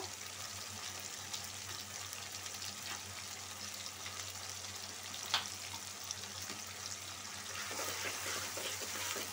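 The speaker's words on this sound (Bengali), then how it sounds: "একটু ভাজা ভাজা করে দিই, যাতে কাঁচা গেরানটা চলে যায়" Ginger and garlic paste fries in a pan for chicken curry, a low, steady sizzle with an occasional light scrape or clink, fairly quiet and close, no talking.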